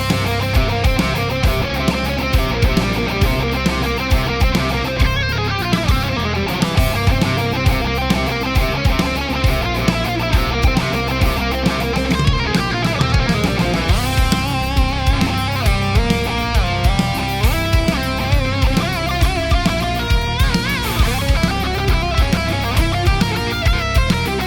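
Distorted electric guitar solo layered with a slowed-down copy of itself, producing a dense, smeared lead line over steady rhythmic backing throughout, loud and continuous with no talking.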